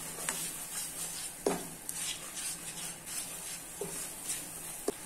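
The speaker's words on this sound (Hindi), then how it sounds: "और सभी मसालों को मिक्स कर लेना है" Coriander powder, turmeric and salt stirred into a pan of cooking kadai paneer masala, with a soft background sizzle and a few faint spoon scrapes against the pan, no voices.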